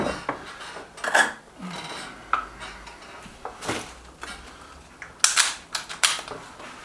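Air rifle at a shooting session, either a Lee Enfield Sentry or an Artemis M11, heard as a few sharp, close clacks and mechanical snaps spread over several seconds of quiet handling, with no talk.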